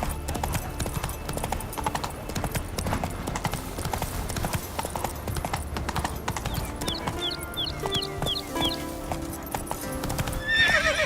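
Horse hooves clip-clop steadily in the open world of The Witcher 3 video game, a rhythmic clatter under music and ambience, with a horse whinny and brief voices near the end.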